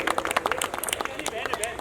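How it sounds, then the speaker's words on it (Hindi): A seminar audience on railway job vacancies claps in a quick, close burst of many hands, with talk mixed in. "जोरदार ताली होनी चाहिए"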